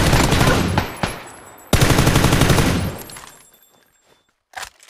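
Video game gunfire in an AUG match: loud bursts of automatic fire come in two clusters close by, then fade out, with a last short crack near the end.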